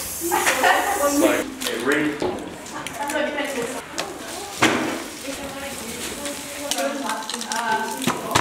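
Eggs sizzle and crackle in a hot pan, with a person talking over the frying and some clattering as the food is stirred.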